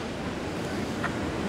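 Persian Gulf waves off the Emirates coast, a continuous close wash of surf mixed with wind buffeting the microphone, no voices.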